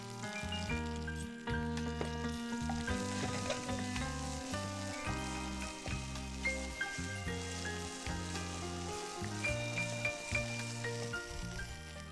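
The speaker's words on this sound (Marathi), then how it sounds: "त्यानंतर त्यामध्ये जिरं, हलकं जिरं टाकायचं आहे" Cumin seeds sizzling in hot oil in a pan, a continuous frying hiss running under steady tonal background music.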